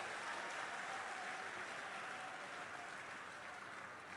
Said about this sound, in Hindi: तालियों की गड़गड़ाहट से स्वागत किया जाए